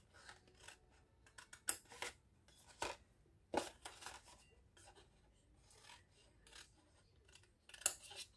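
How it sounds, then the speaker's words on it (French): Scissors cut at a bevel through material for a 3D arcade game papercraft model, producing faint, close, crisp snips and scraping rasps in irregular short bursts with quiet gaps between. "Là, je coupe en biseau."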